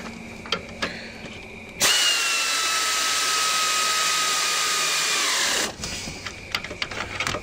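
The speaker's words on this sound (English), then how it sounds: "The only thing I have left is to tighten the lock bolt for the adjustment" An air tool runs in one steady, loud burst of about three and a half seconds, tightening the alternator adjustment lock bolt on a Lexus ES330. A high whine holds and then drops slightly before it cuts off, with faint clicks and shop noise before and after.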